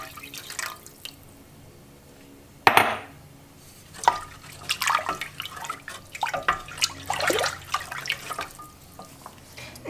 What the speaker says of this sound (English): we add in our 1 cup of 1/2 and 1/2